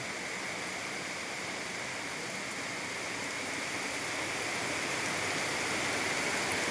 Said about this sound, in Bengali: বাইরে ভীষণ পরিমাণে বৃষ্টি হচ্ছে